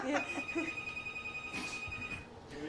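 A telephone rings indoors, a steady high electronic tone that holds for about two seconds while people talk over it.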